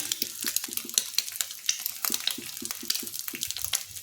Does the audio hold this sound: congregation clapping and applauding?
no